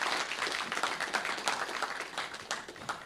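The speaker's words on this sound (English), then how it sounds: "Round of applause, please, everybody." An audience applauding at a university student founder showcase, a continuous patter of many hands clapping, fairly quiet and even, swelling slightly and dipping briefly near the end, with no voices over it.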